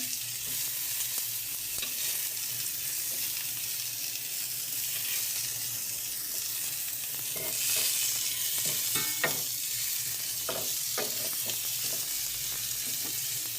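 Steady sizzling of potatoes and mixed vegetables frying in oil in a pan, with a constant hiss throughout and occasional scrapes and clicks of stirring, close and fairly soft, with no voices.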